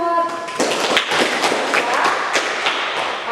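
Students in a classroom clap together, a loud, dense patter of overlapping claps that runs continuously after a brief voice at the start.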